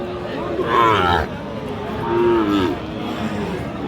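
Two drawn-out moos from a Sahiwal bull calf at a cattle market, close and loud, one after the other with a short pause between, over a murmur of people in the background.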